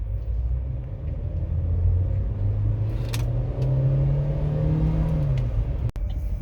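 A 2018 Chevrolet Trax Premier Turbo accelerating, heard from inside the cabin: a low engine rumble rising steadily in pitch as revs climb, then easing off near the end, loud and continuous with no talk.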